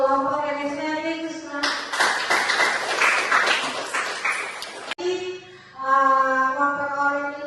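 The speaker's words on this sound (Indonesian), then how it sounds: "Kita beri tepuk tangan untuk kelompok inisiatif." Applause for a student group in a classroom, a short burst of clapping from children, set between stretches of sustained tonal music.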